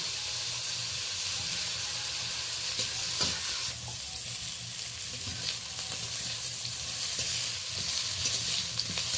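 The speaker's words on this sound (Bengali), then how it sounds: "লবণ হলুদ দিয়ে এই চাকা চাকা উচ্ছেটা আমি ভালো করে ভেজে নেব।" Round slices of bitter gourd with salt and turmeric fry in oil, giving a continuous close sizzle and hiss with occasional scraping and stirring knocks.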